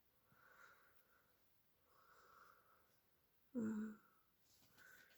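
Wheezy nasal breathing like a snoring baby, heard as faint snuffly breaths repeating at a slow rhythm, then one louder, close snort-like inhale near the end, in a quiet room during cross-stitch work.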